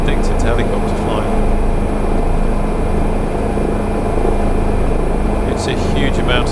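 A Bell 407 helicopter in Microsoft Flight Simulator flies over Bora Bora, its rotor and turbine making a loud, constant droning whir throughout while a voice speaks briefly over it.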